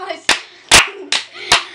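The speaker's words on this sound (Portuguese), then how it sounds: "Outra salva de palmas! 2 salvas de palmas!" Four sharp hand claps spaced about every half second, close and loud, with a voice murmuring faintly between them.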